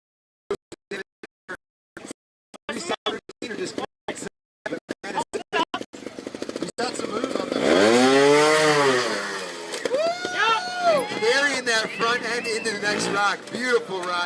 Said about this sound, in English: Beautiful ride on that. Big up for Josh Roper on the TXT 300 two-stroke.